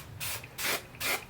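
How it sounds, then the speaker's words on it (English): Hairspray misted onto hair while curling it, three short hissing spray bursts in a row, close and soft, with no talking. "I spray the hairspray down or like straight on."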